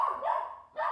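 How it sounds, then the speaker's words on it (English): A dog barks twice in quick succession, close and moderately loud, in a short burst with no talking. "the barking was coming from inside"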